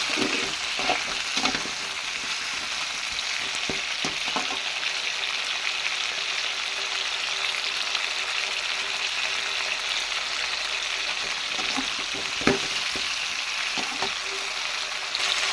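Four tomatoes sauté in a pan for mochaparuppu sambar with a steady, close sizzle, and a spoon scrapes and stirs from time to time throughout.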